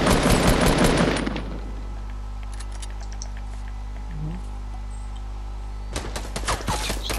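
Assault rifle fire in a survival shooter game: a loud, rapid burst of automatic shots at the start, then a quiet hum with a faint distant sound, before another crackling burst of shots near the end.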